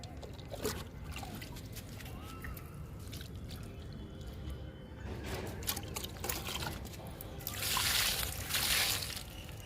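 Liquid fertilizer poured onto sun-wilted flowering plants in summer heat, a soft trickling and dripping stream running steadily, growing louder and splashier near the end, with no talk.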